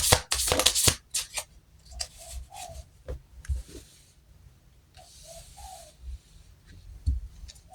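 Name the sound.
shuffling tarot cards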